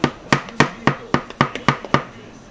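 Flour mixture being stirred into chocolate chip cookie dough in a bowl, giving a steady run of sharp knocks and scrapes, about four per second, close and clear with no talking.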